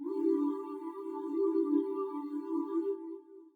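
Fluttering synth pad from the Providence sound bank, a sustained tone with a soft wavering flutter, moderately quiet and alone, fading out at the end.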